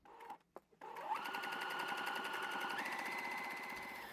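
A sewing machine stitches a pocket onto a garment, starting after a few brief clicks and then running at a steady, fast, even hum with close, continuous mechanical chatter.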